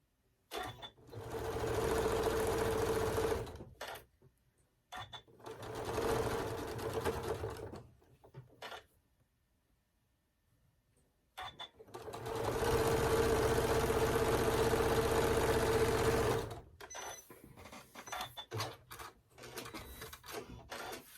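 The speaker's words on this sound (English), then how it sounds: "once I sew them together, my points should match" A sewing machine stitches quilted Halloween table runner pieces together in three runs of steady, close whirring, separated by pauses with light handling noises.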